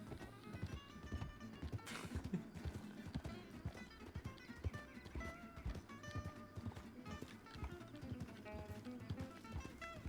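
Rhythmic clip-clop of horse hooves trotting, joined by a neigh, set against faint background music.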